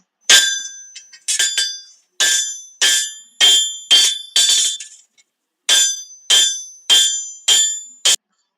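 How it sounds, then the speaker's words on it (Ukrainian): A blacksmith's hammer rings sharply on metal in a forge about a dozen times in a steady rhythm, bright clanging strikes with a short pause partway through. "як звучить стук молота по металевому предмету в кузні у коваля"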